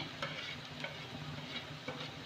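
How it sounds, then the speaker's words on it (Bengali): Sliced onions sizzle steadily in a pan while being stirred, with soft periodic scrapes of the utensil over a constant low frying hiss. "একটু আমি নেড়ে নেব পেঁয়াজটা কিন্তু আমি লাল করে লাল করি না"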